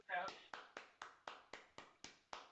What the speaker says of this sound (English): It's more of like a singular clap